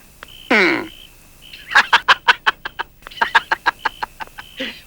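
A loud squawk from a chicken, then a quick run of sharp, rhythmic clucks repeating close by.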